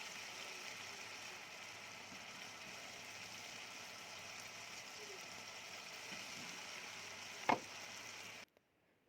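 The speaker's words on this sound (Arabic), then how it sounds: "نفضل بقى نقلب لحد ما الشاورما بتاعتنا تاخد كلها نفس اللون" Shawarma meat frying in a pan while being stirred, a steady soft sizzle with faint scraping, one sharp clink near the end before it cuts off.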